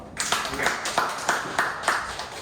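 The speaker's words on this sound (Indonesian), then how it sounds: "Tepuk tangan dulu dong." Several sharp hand claps in a steady rhythm, close by, with voices talking over them.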